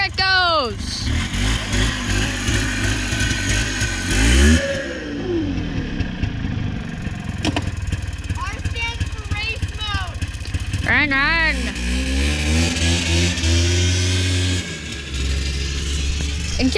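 Engine of a vehicle set to race mode revving and pulling away, rising and falling pitch sweeps from repeated throttle blips, heard under frequent close talking.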